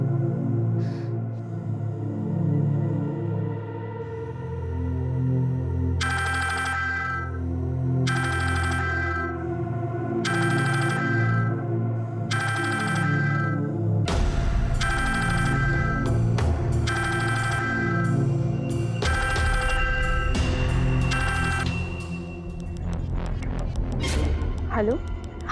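An incoming call sets off a mobile phone ringtone late at night in a Hindi crime drama. The melodic tone repeats in several bursts over a continuous music score, loud and prominent.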